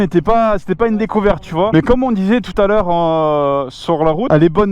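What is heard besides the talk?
None of the usual background noises is heard.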